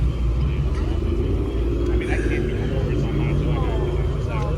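A 5.0 engine rumbles steadily close by as the car pulls up, a deep continuous drone with a faint higher whine over it, heard without any talk.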